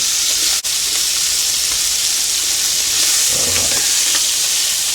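Shrimp and chicken stir fry sizzling loudly and continuously in a hot pan, a dense close hiss with no talking.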